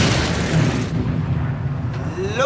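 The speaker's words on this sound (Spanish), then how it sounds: "Unos segundos después hubo otra tremenda explosión cuando nos alcanzó el segundo torpedo." A torpedo exploding against a ship at sea during a World War II convoy attack: a loud, deep, rumbling blast that fills the first second and then decays into a lingering low roar.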